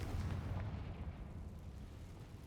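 A deep rumbling blast from the Confringo fire spell in Hogwarts Legacy, a low boomy explosion that rolls and fades over a couple of seconds, fairly quiet with no talk.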